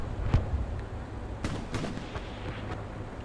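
Artillery fire booms in Hell Let Loose, several scattered dull thuds and cracks, some nearer and some distant, spaced irregularly over a steady low battlefield rumble with no voices.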